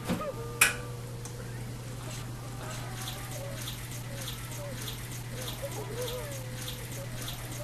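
Milk pours into a bowl of cereal in a steady, soft liquid trickle that runs for several seconds after a sharp knock at the start, with a constant low electrical hum underneath and no talking.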